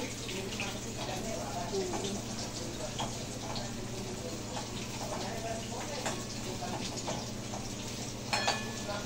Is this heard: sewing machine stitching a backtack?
no